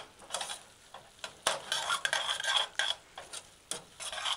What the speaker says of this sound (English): Use your cooking spoon and stir in the grounded beef, cooking in a saucepan